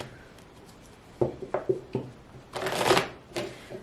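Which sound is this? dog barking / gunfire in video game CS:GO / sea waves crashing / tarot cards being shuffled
tarot cards being shuffled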